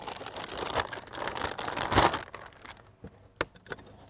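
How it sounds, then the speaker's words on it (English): Crinkling and rustling of a plastic bag, close by, with a few sharper crackles and tearing-like bursts as it's handled; no talking. "I'll take this one out of the plastic bag."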